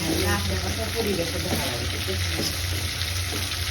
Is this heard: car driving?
no